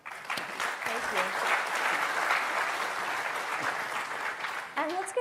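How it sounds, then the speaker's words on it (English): Audience applause at a panel on technology and the global fan experience, soft and distant but sustained, a broad wash of clapping for about five seconds with a voice starting up at the very end. "great round of applause for these women"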